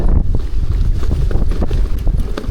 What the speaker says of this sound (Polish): Wiatr też jest.